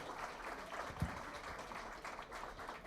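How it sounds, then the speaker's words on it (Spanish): Applause from the audience at the official launch of the book "Sobre Hugo Chávez Frías", a soft, steady wash of many hands clapping in a hall, faint and somewhat distant, with one sharper thump near the middle. "yo quiero pedir otro aplauso para la profesora doctora Ana Alejandrina Reyes"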